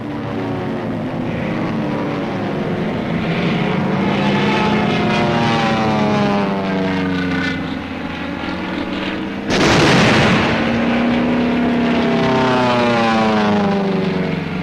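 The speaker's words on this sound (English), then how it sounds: "The support air director contacts carrier planes circling the target." Propeller-driven WWII carrier planes drone overhead near Iwo Jima in 1945, a loud sustained engine roar whose pitch sweeps up and down as aircraft pass, with a sudden louder surge as another plane passes close.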